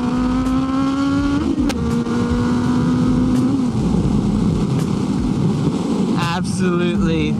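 A Ferrari 250 GTO drives by on a Sydney street: a loud, sustained engine drone with shifting revs builds into a sharper, rising roar near the end, with faint voices in the background.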